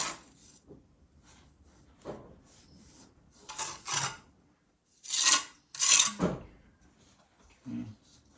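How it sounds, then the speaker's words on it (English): Lime putty mud pressed and scraped into a masonry joint on a Rumford fireplace project, giving several close, gritty rasping strokes in uneven bursts, with short quiet gaps between. "I'll just fill this in with mud. My precious lime putty mud."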